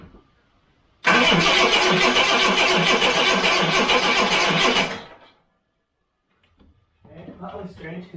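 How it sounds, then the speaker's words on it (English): A car engine cranked over with the ignition and fuel pump disconnected and the throttle held wide open gives a loud, even churning whir for about four seconds. It then stops dead, and a voice speaks after a short silence. "crank it over with my foot flat on the gas so we get a lot of airflow in"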